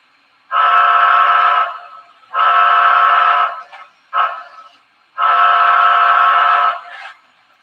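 Loud steam whistle sounding a grade-crossing pattern: two long blasts, a quick short toot, then a final long blast, all near and clear.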